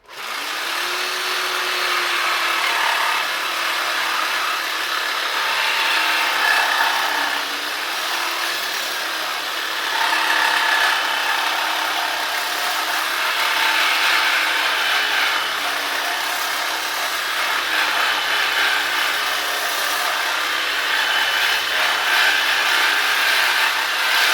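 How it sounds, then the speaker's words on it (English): Power tool cutting steady and loud just beneath a weld on both sides of a Honda VT750 Shadow motorcycle frame, a continuous harsh grinding-saw rasp lasting throughout with small dips in pitch and no talking. "And we're going to cut right under that weld on both sides."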